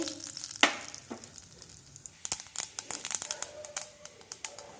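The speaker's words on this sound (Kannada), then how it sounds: "ಕಡಲೆ ಹಿಟ್ಟು ಸ್ವಲ್ಪ ಗೋಲ್ಡನ್ ಬ್ರೌನ್ ಆಗೋವರೆಗೆ ಹುರ್ಕೋಬೇಕು" Gram flour roasting in oil and ghee with mustard seeds and cumin, giving a steady close sizzle with scattered crackles and pops, and one sharp pan knock near the start.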